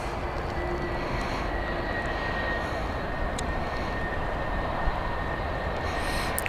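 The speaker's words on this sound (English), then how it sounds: "Oh, it's one of my favourite planes, the 757s." A Boeing 757 airliner at Edinburgh Airport produces a steady, broad jet-engine roar that holds constant throughout at a moderate distance, with no voices.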